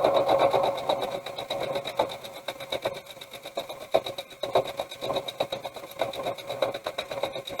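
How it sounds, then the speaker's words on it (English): A sewing machine stitching fabric during a beginner sewing project, running in bursts with a fast needle rattle, close and fairly loud, no talk. "I'm going to go ahead and throw a couple stitches in there"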